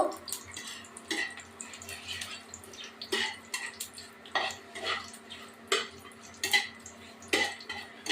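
Chicken being stirred with cooking ghee in a metal pot: a spoon scrapes and clinks against the pot in repeated irregular strokes, fairly close, with a steady faint hum underneath.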